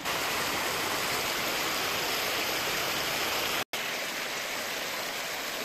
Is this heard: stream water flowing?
yes